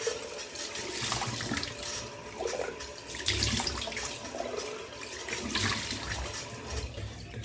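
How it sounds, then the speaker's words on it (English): Cold water runs steadily from a bathroom tap with splashing as it is scooped onto the face after a shave, close and continuous for several seconds with no talking. "Splash of cold water."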